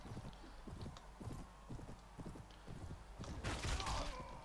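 Horse hooves clip-clop steadily in Mount & Blade Warband with the Perisno mod, a run of quick rhythmic hoofbeats, fairly close, with a horse snort or whinny near the end.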